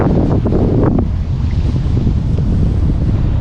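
Heavy wind buffets the microphone in a steady, loud roar while someone fishes for white perch from a boat on open water at sunset, with no voices.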